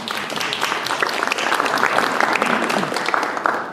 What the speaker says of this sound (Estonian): Te võite endale aplausi teha.